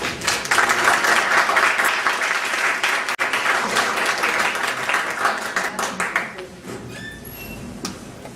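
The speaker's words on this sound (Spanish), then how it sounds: "Le podemos dar un fuerte aplauso" A training-session audience gives a speaker a warm round of applause, strong sustained clapping that gradually tapers off after about six seconds, leaving light scattered sounds and a few faint high pings.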